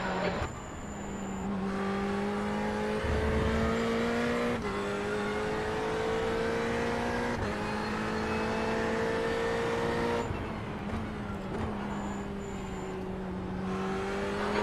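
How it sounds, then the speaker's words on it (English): Race car engines in a sim racing video game drone steadily and loudly, pitch climbing and dropping through gear changes, with a brief tire squeal and no talking. "Okay, Ray, there's a faster car approaching."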